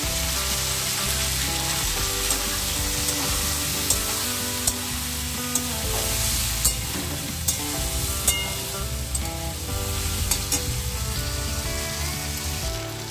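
Ground spice paste for a mixed vegetable curry hisses and sizzles loudly in a pan, with a constant sputter and small rhythmic scraping taps as it is stirred.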